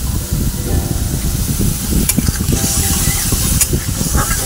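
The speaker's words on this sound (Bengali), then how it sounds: "এবার বাটা মশলাটা ওটা আমি দিয়ে দেবো।" Ground spice paste hits hot oil with cumin and bay leaf already frying, bursting into a loud close sizzle with stirring scrapes and a couple of sharp crackles, no voices.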